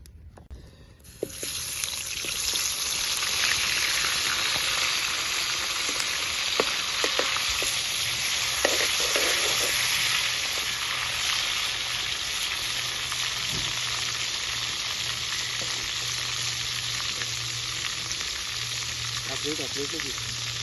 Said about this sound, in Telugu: ముందుగా మూకుడు పెట్టుకుని దాంట్లో కొంచెం ఆయిల్ పోసుకొని మనం క్లీన్ చేసుకుని పక్కన పెట్టుకున్న ఆ చేపలు వేయించుకుందాం ఒకసారి.